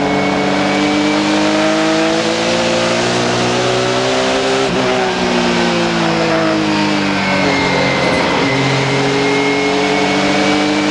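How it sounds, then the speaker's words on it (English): Onboard a stock car in a 1998 ASA AC-Delco Challenge Series race at Peach State Speedway, a loud engine drones steadily as the driver works the throttle, its pitch rising and dipping through brief lifts with no talk. "Listen to him work that throttle a little."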